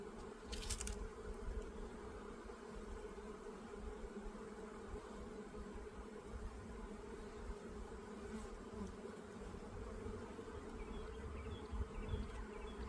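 Honeybees swarm and drone around an opened hive during a spring inspection, a steady dense buzz filling the whole stretch, faint and even, with no voices over it.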